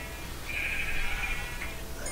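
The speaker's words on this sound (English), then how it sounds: "I hear a sheep out there" A sheep in Minecraft gives a single drawn-out bleat, moderately loud, against quiet game background with no talk.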